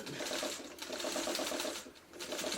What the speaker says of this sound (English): Now I'm just going to sew that piece down because it's here and it's handy.